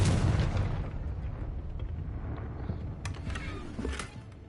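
A Confringo blasting spell bursts in a Hogwarts video game, a loud booming explosion at the start that rumbles and fades over several seconds, with a few sharp crackles near the end.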